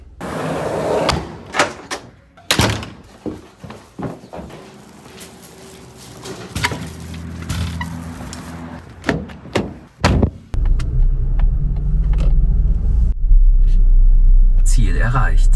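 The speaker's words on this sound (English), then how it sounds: "let's get into the car" Car door thumps and an engine rumbling as a car is boarded and driven away on a drive to the Home Alone house filming location, with a steady low drone building in the second half under occasional talk.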